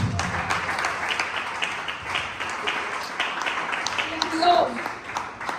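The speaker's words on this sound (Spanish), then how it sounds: "un aplauso a Dios" A church congregation breaks into steady, sustained applause, a dense even patter of many hands clapping that carries on throughout and swells briefly toward the end.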